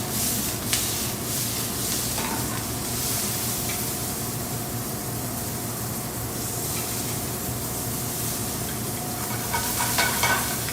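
Mushrooms sautéing in a pan kept on high heat, a steady loud close sizzle with brief bursts of tossing, continuous with no voices.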